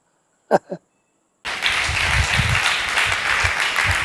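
Audience clapping at a prosperity-gospel sermon: a brief voice, a pause, then dense applause that starts abruptly and holds steady and fairly loud to the end.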